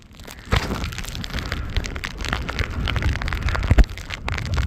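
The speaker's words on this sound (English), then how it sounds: "The rain coming down over there is mental." Heavy rain pours down outdoors around a van, a dense crackling patter of drops with sharper impacts and gusts, loud and close.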